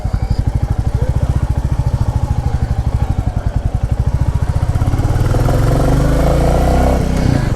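A 2023 Royal Enfield Classic 350 E20 in chrome red thumps along steadily with its single-cylinder engine, close and loud, the beat smoothing into a fuller, denser roar as it picks up speed.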